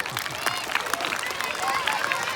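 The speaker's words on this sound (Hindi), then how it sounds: "मेरे बच्चे के लिए भी ताली बजा दो, 1 2 3।" A crowd at a motivational talk claps briefly, a dense patter of hands with voices mixed in.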